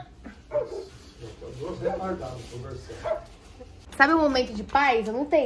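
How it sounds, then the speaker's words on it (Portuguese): A voice talks over quiet background sound, then a dog barks loudly several times in quick bursts near the end. "Aqui está o som do latido do cachorro."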